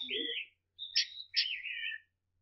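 Drawn image rendered to sound as a steganography trick: two short bursts of high synthetic warbling tones, the first with a brief lower blip, then a gliding electronic squeal, separated by silence and sounding almost birdlike.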